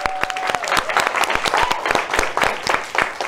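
Studio audience applauding at the opening of an evening political talk show, a lively run of sharp, close claps with a rapid rhythm that carries steadily throughout, dense and fairly loud.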